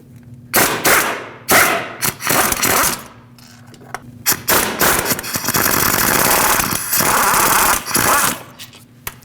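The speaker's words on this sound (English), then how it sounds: "Now remove the 2 14mm headed bolts that hold the starter on." Loud bursts of a pneumatic impact wrench rattling away close by as it removes the two 14mm starter bolts on a 2006-2015 Lexus IS250 AWD, in several short blasts and then one long sustained run, with brief pauses between.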